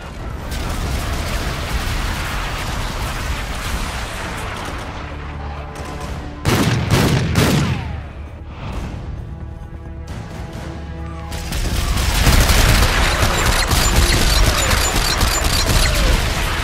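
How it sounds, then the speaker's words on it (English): A bombardment fires in Call of Duty: Infinite Warfare, a dense roar of repeated heavy blasts and rapid gunfire under a music score, with a sharp louder burst midway and a swelling barrage toward the end. "Bombardment ready to fire."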